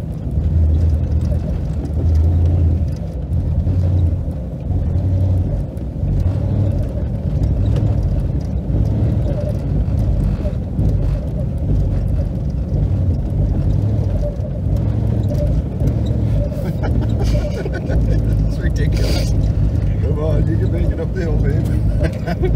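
A car engine held at steady throttle gives a low, continuous rumble with small wavers, and people talk over it throughout.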